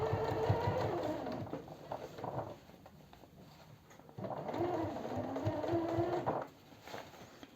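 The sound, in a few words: sewing machine stitching denim sports bag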